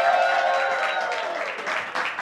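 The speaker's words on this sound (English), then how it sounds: "please, a round of applause for Jahman Anikulapo." Applause from a studio audience on a Nigerian TV show greets a guest, a dense wash of many hands clapping that holds steady across the clip and eases slightly toward the end, with no one speaking over it.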